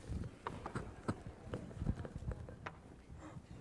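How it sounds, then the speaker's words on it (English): Horses galloping, a rapid uneven clatter of hoofbeats with hard thuds spread across the whole stretch, moderately loud and a little distant, with no voices. "She could hear the thunder of their horses in the distance."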